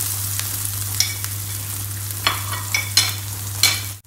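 Thinly sliced onion and sliced garlic cook in a beef sauce with a gentle steady sizzle over a low constant hum, punctuated by several distinct utensil clinks and scrapes, with no talking.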